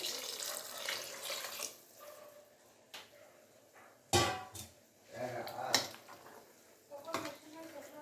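Water poured into a simmering palak and green pea gravy, with faucet-like running and splashing bursts alongside clinking pots and utensils, moderately close, interspersed with quieter kitchen handling.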